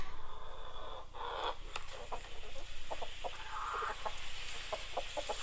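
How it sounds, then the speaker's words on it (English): A rooster crows in two drawn-out calls with scattered clucks between them, fairly faint and distant over a steady low hum, with no voices. "there's the crow again, the rooster"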